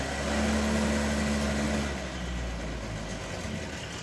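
Motorcycle engine idling steadily with a low, even drone and a faint higher whine that fades out partway through, continuous and close, with no talking.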